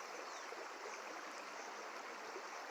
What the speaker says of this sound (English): I'm standing on the historic dark waters of Nqabarha River, kuGatyane in Willowvale.